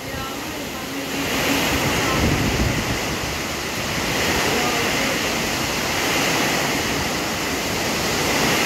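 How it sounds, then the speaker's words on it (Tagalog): Strong typhoon wind during Typhoon Uwan roars in a loud, continuous rushing blast with surging gusts, like heavy surf, heard from a sheltering house. "Sobrang lakas po talaga ng hangin."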